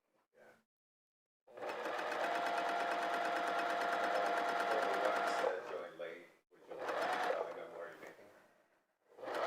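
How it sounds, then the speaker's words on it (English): A sewing machine stitching a quilt block runs in a steady, close, continuous whir for several seconds, then starts again in shorter bursts. Brief quiet gaps separate the runs. "Can you switch it to the sewing machine?"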